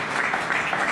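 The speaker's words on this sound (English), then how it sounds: "let's give him a round of applause for his generosity and generosity" An audience at a nursing services event applauds in a brief, even wash of many clapping hands, steady and moderately loud.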